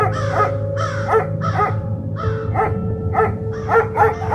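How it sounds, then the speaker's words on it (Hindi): Dogs bark and crows caw together in a rapid, repeated series of harsh calls over a steady low background hum, fairly close and continuous throughout. "जब वह शमशान में जाके रोटी बनाती तो उस पर कुत्ते भौंकते थे और कौवे काएं काएं करते थे।"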